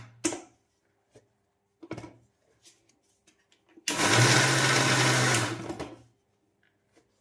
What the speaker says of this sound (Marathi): आता मी हे दळून घेते मिक्सरमध्ये.